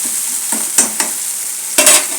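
Egg masala rice fries in a hot pan, a steady sizzle broken by four or five sharp scrapes of a spoon stirring it, close and without any voices.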